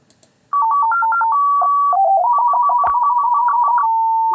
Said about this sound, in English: And these are alarms.